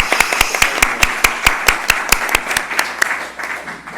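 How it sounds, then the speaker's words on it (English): An audience at a community services district board meeting claps in sharp, evenly spaced bursts, fairly close and loud, tapering off toward the end. "one more round of applause,"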